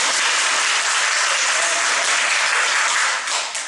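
Audience applause at a live stage show, a dense, steady roar of many hands clapping that fills the whole stretch and eases slightly near the end.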